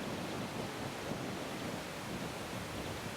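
Wind blows steadily across open countryside on a walk, a constant broad rushing that buffets the microphone at a faint level, with no voices.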